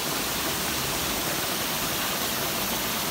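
At a high-tech fish farm in Angamaly, water from the aerated tanks drops into a large collection pipe, producing a loud, continuous rushing roar close by with no pauses.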